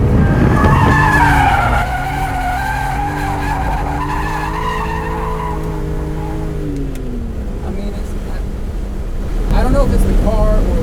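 A BMW E46 M3 engine revs high around 7,000 RPM while tires squeal in a long sustained drift, the pitch wavering, then the engine noise swells again at the end.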